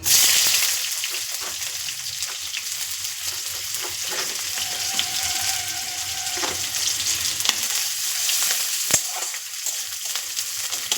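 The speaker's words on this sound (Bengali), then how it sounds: "ফোড়ন আমার রেডি পেঁয়াজ কুচি দিয়ে দেবো" Chopped onions frying in oil tempered with cumin seeds, a loud continuous crackling sizzle with scraping stir strokes and occasional sharp taps of a utensil against the pan.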